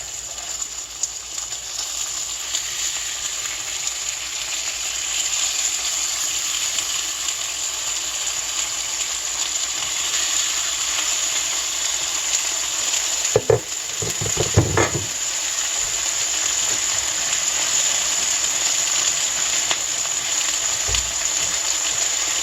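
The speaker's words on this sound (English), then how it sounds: "So, then I will just put the pork chops in that's been marinating." Marinated rosemary-lemon pork chops sizzling steadily in a pan, a continuous bright hiss held close and even, with a couple of brief clattering knocks partway through.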